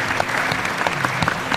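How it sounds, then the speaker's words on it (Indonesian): A studio audience on the Indonesian TV show Sahur Itu Indah breaks into brief, dense clapping for a guest named Bisma, loud and close throughout. "Tepuk tangan buat Bisma nih"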